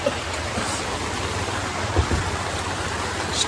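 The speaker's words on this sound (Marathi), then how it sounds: "हा पाऊस तर खतरनाक पडायला इथं" Heavy monsoon rain pouring steadily outdoors, a dense, even hiss that runs unbroken throughout, with a faint bump or two in the background.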